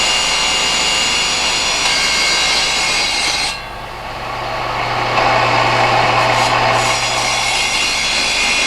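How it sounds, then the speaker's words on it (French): A diamond saw cuts through jade with a steady, loud grinding drone that dips briefly midway, then returns and holds a low hum to the end. "Une fois que les morceaux sont coupés à la scie diamant tel qu'on peut le voir"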